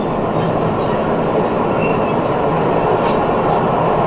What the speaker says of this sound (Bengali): এখন কিন্তু ট্রেনের গতি 345 কিলোমিটার পার আওয়ার।